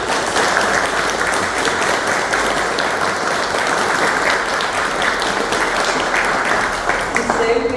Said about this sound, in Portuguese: eu peço uma salva de palmas também para ele